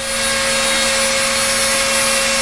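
A Dremel rotary tool runs steadily at high speed, a loud constant whine with sharp tonal lines and no change in pitch, alone without speech.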